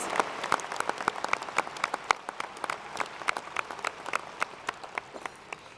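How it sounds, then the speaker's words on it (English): Graduation-ceremony crowd at a university fall commencement applauds the students, scattered distinct claps close by standing out over a softer, continuous bed of distant clapping. "A round of applause for these outstanding students."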